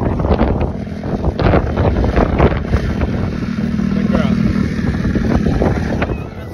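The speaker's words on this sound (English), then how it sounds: "Sorry, it's windy." Strong wind buffeting the microphone outdoors at an off-road riding spot with motorbikes, a loud continuous low rumble and roar throughout, with faint voices and engine sounds underneath.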